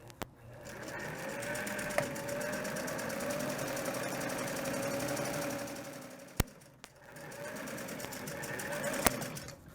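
Sewing machine stitching in a long steady run, a close mechanical whir with a faint rhythmic knock, broken by a few sharp clicks and a brief pause before resuming.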